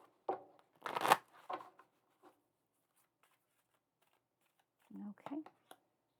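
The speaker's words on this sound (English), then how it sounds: "we'll go ahead and shuffle just a bit more" Papery riffling of tarot cards being shuffled in a few short bursts, close by, with quiet gaps in between and a couple of softer shuffles near the end.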